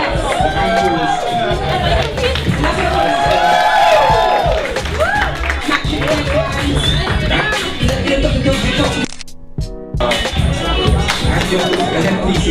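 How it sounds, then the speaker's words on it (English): Audience at a youth fashion show applauds and cheers a model in African print with a headpiece, a loud steady wash of clapping, whoops and crowd noise with voices through it, dipping briefly near the end. "Can we get another round of applause, please?"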